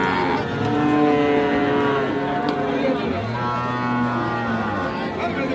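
Several cattle, including Friesian heifer calves, moo and low in drawn-out overlapping calls amid a busy crowd murmur, with people talking nearby at Ambari livestock market in Dinajpur.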